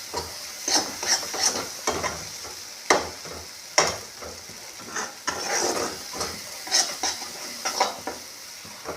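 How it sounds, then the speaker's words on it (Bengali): Egg frying with spices in a pan for a red lentil tadka sizzles steadily while a spatula scrapes and stirs in repeated rhythmic strokes, close and clear with no talk. "ডিমটা খুব সুন্দর করে মশলার সঙ্গে মিশে গেছে এবং ভাজা ভাজা মতো হয়ে গেছে"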